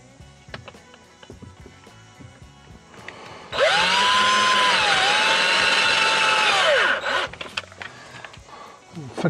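A power drill pre-drilling inside a camper van whirs loudly in one steady burst of about three seconds, its pitch dipping briefly midway, with quieter handling noises before and after.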